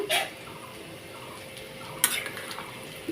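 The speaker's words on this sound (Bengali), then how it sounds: "এখন আমি এই যে ঝোলটাকে ঢেলে দেবো" Fish and bottle gourd broth is poured into a hot pan over the tempering, giving a soft, steady hiss with sharp clinks of metal utensils at the start and again about two seconds in.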